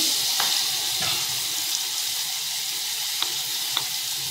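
Asafoetida, cumin and mustard seeds sizzle in hot oil with a steady broadband hiss, and a few sharp pops and seed crackles rise above it now and then. The sound is close and continuous, with no talking.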